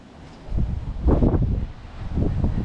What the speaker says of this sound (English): Wow, it's getting windy.